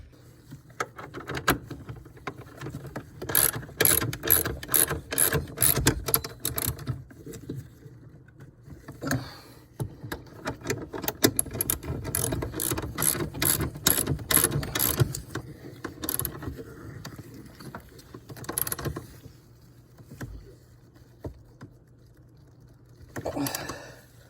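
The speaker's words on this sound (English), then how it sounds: "the steering column has been located by the firewall, and I'm ready to tighten these nuts down" A ratchet fitted with a 13mm deep socket tightening the steering column bolts on a C3 Corvette, making bursts of rapid clicking in several runs with pauses between them, close and moderately loud.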